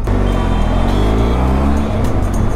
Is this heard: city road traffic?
yes